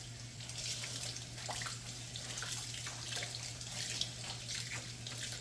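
Hot tap water runs steadily into a sink while luffa sponges are squeezed and cleaned under it, a soft constant splashing with a low hum underneath.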